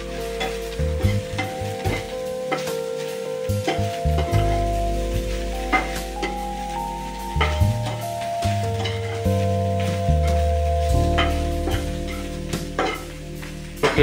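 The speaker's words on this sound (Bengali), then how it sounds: "মাশরুমগুলো লাল হয়ে এসছে, মাশরুমগুলো ফ্রাই হয়ে এসছে" Mushrooms frying in a pan: a steady sizzle under repeated stirring and scraping clatter, close up and continuous throughout, with no talk.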